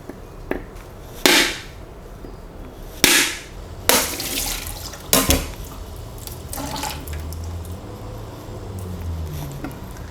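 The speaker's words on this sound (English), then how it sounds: "So now I am going to break the coconut." A whole coconut is cracked open by hand, giving several sharp, loud strikes in the first five seconds, followed by quieter trickling of its water.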